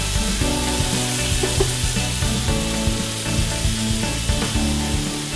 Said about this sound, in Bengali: হালকা ব্রাউন করে আমরা এটা ভেজে নিব